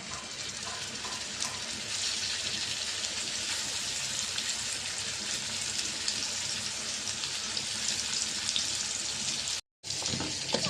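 Chicken meat frying in a wok (kadai), a loud, continuous hissing sizzle that barely changes over the whole stretch, cutting out for a moment near the end before resuming.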